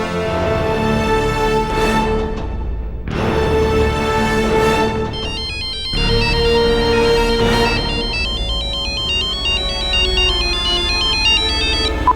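A mobile phone ringtone rings unanswered, a loud, steady melodic tune repeating in phrases for about twelve seconds with no one speaking.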